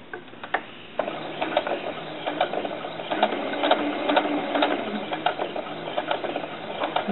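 A sewing machine stitches along a dart in fabric for a doll dress, running as a steady, fast mechanical patter with brief pauses and restarts, close and alone with no talking.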